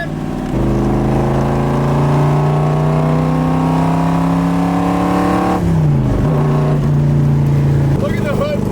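A 427 big block Corvette with a 4-speed cruising on a highway, heard from inside the car as a loud, steady low engine drone that dips with a gear change and then resumes.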